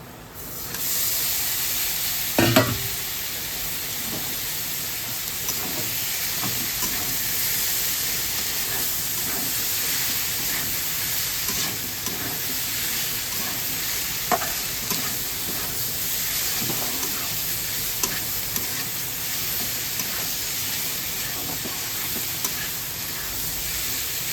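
Snake gourd with turmeric frying in a pan, a continuous bright sizzling hiss with occasional soft knocks as the pieces are stirred, steady and close, with no voices.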